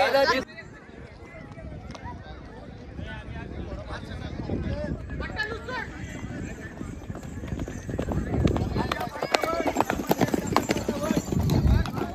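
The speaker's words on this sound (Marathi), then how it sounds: "घोडे आले तिथे ते बघ" Rhythmic hoofbeats of horses clip-clop steadily at the Mahabaleshwar hill station, growing louder toward the end, with people talking throughout.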